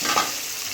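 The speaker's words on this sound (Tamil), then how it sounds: "வெங்காயத்தை போட்டுக்குங்க" Onions hiss and sizzle as they drop into a pan with gently browning chana dal, cooking for brinjal thokku; a steady close frying sound with a brief stir near the start and no talking.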